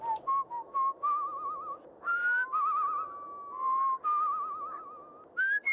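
Musical whistling from the video game Where the Water Tastes Like Wine, a lone whistler with heavy vibrato and little ornamental tones, loud and close, in several phrases separated by short pauses.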